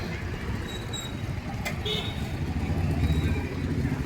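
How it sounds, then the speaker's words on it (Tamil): Busy road traffic at Sriperumbudur bus station: a steady rumble of cars, motorbikes and buses passing nearby, with a brief high horn-like tone partway through and a murmur of voices under the noise. "இது ஸ்ரீபெரும்புத்தூர் பேருந்து நிலையம்."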